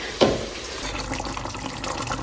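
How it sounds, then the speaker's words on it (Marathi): Water poured into a mixer jar in a home kitchen while making chicken pulao, a brief splash followed by a steady, close running trickle with no talk. "मिक्सरच्या भांड्यामध्ये थोडंसं पाणी टाकलं."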